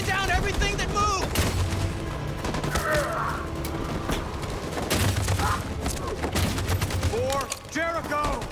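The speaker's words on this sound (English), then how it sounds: "That machine gun is taking down everything that moves!" Heavy machine gun fire and scattered explosions rattle through a battle in the game Detroit: Become Human, dense bursts under shouted voices and a musical score.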